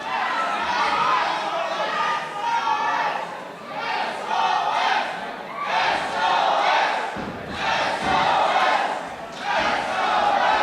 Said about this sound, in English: This crowd solidly behind the champion here in Dublin. This atmosphere is electric.